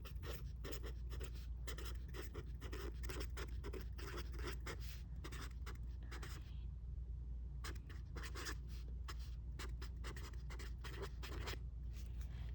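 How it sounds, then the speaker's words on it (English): A pen scratches out a number by hand in rapid, rhythmic strokes, with short pauses between digits, close and fairly quiet over a low steady room hum. "So I'm gonna write that number."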